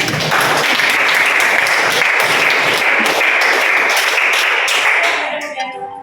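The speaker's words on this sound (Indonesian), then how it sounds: "beri tepuk tangan" Students in a high school economics class give a sustained burst of dense applause from a roomful of hands, loud and steady for about five seconds before tapering off quickly at the end.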